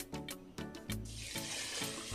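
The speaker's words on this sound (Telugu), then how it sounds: "ఇట్లా ఈ విధంగా నాలుగైదు సార్లు బియ్యాన్ని కడగాలి" Rice rinsed in a bowl of water while cooking at home: a short burst of tap-like running and splashing water hisses in loudly after a second, over faint background music.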